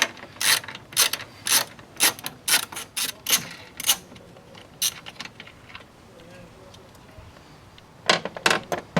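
A hand ratchet clicks rapidly in close, loud bursts while removing 8mm bolts in the engine bay of a 2005 Ford F250 with the 6.0L Powerstroke diesel. A quieter pause in the middle is followed by more ratcheting.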